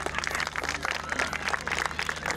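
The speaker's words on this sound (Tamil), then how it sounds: "மீண்டும் ஒருவரை உங்கள் அன்பான கரகோஷங்கள்." An audience at a UK community sports festival applauds a group of dance students, steady brisk clapping from many hands with a low hum running underneath.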